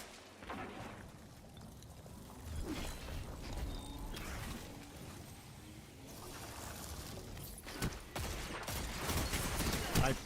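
Gunfire and explosions from the Titanfall video game crackle in bursts over a busy mix of whooshes and mechanical game sounds, with a sharp crack near the end.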